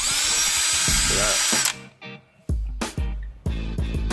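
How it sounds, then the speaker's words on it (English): A power drill spinning a wire brush on a Subaru Liberty's rear brake parts, cleaning off gunk with a steady high whine, then several short bursts of grinding as it starts and stops. "I've got a wire brush on a drill, so I'm gonna use that to get rid of all that gunk there"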